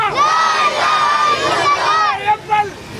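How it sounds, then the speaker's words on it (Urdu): A large crowd at a Palestine solidarity rally chants slogans in unison, loud and close, with sustained massed voices rising and falling before two short shouted bursts at the end. "شرکائے فلسطین سے اظہار یکجہتی کے لیے شدید نعرے بازی بھی کی۔"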